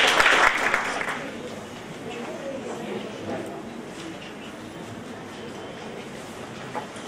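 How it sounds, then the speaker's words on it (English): A lecture audience gives a brief burst of applause for a plenary speaker, strongest in the first second or so, then quickly thins into faint scattered clapping and room noise. "let's have a round of applause for our plenary speaker, Dr. Azfar Hussain."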